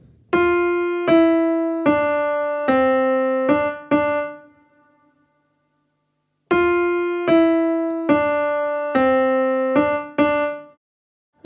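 A piano plays a melody twice as a short phrase of single notes. The notes are struck evenly, bright and close, with a pause of silence between the two passes.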